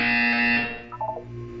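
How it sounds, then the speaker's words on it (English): A loud electronic buzzer tone in the video game Portal 2 holds steady for about a second, then gives way to a few short, higher beeping blips. "You will hear a buzzer."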